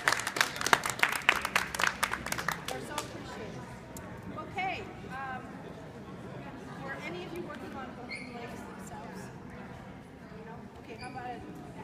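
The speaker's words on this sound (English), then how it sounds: "clapping and thanking our students" Applause from an audience honoring students at a dog and handler awards event in Napa, strongest at the start, then fading into crowd chatter and cheering voices.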